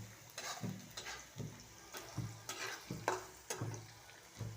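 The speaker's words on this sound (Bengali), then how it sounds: "এটা শুটকি, তেলে বাগার," Dried fish (shutki) frying in oil in a pan, Narsingdi-style, with a steady sizzle and a rhythmic scrape of stirring about once a second, close and fairly quiet.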